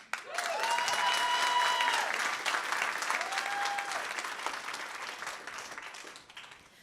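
Audience clapping at a public comment meeting in Seattle, steady applause with a faint tonal whine over it, fading gradually toward the end.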